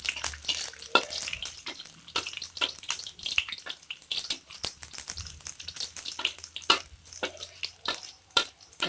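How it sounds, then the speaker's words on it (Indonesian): Garlic sautés in a pan for coconut-milk noodles, with a soft sizzle under repeated, irregular scrapes and clinks of a spatula stirring against the metal. "Kemudian kita masukkan bawang putih, kita tumis bawang putih."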